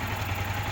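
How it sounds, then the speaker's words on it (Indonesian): Yamaha R15 motorcycle engine idling steadily, a close, even low hum with fine rapid pulsing, no talking. "Ini mesin hidup."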